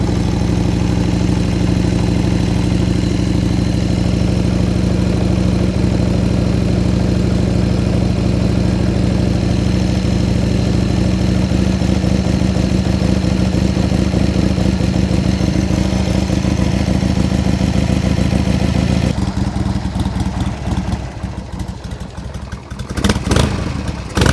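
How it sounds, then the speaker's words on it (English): A Harley-Davidson Sportster V-twin motorcycle engine idles loudly and steadily nearby with a lumpy, uneven pulse, then shifts to a rougher, clattering sound near the end. "Oh yeah, V-twin."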